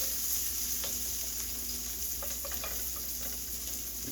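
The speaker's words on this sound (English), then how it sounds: "Cook that flour down some. And once you start incorporating that butter in the flour" Butter and flour cook together in a pan as a roux, giving a constant bright sizzle with light scraping and ticking from the stirring utensil, close and even throughout.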